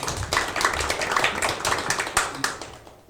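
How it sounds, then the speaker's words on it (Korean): Audience at a technology exchange seminar applauding to welcome a professor to the stage, a scattered round of hand claps that thins out toward the end. "큰 박수 부탁드리겠습니다."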